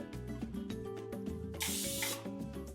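A short, sharp hiss of cooking spray onto a parchment-lined cake pan bursts out for about half a second, over a busy background of music.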